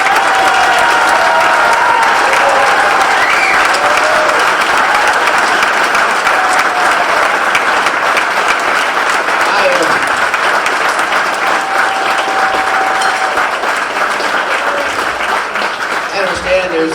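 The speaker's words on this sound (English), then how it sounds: "We should give the Alone brothers a round of applause" Sustained audience applause honoring the Alone brothers at a 2016 Veteran Treatment Court ceremony, loud, dense and steady for the whole stretch, with a few scattered voices and light cheering mixed in.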